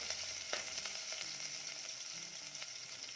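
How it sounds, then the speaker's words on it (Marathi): Onion sautéing in a pan for a Malvani white pea curry, a steady close sizzle with occasional soft stirring scrapes and no voices. "कांदा देखील छान परतून घेऊया"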